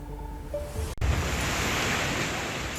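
A rain-swollen river in Pithoragarh, Uttarakhand, roaring below a trolley crossing: a loud, steady broadband rush of water that fills the clip after a brief cut.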